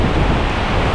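Rushing water and spray at a Mexican waterfall, a loud, dense, unbroken roar close by, with no voices over it.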